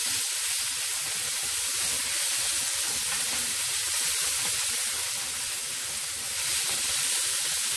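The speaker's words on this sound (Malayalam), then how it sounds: "തക്കാളിയും പച്ചമുളകും ഒരുമിച്ച് തന്നെ ആഡ് ചെയ്ത് കൊടുക്കുക. ഇത് നന്നായി വഴറ്റണം." Chopped tomatoes and green chillies sautéing in a hot pan for Kerala-style tomato rice, a loud, continuous sizzle and hiss with no pause, close up and alone.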